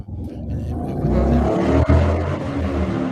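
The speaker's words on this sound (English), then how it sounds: "I thought that was an airplane sound of freedom going by." An airplane flying over a beach, a broad low droning roar that builds and holds steady, close and fairly loud, with no talking.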